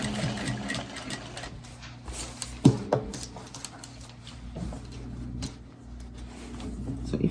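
A sewing machine stitches a seam on a gathered skirt, running in close, steady mechanical bursts with short pauses and small clicks between runs.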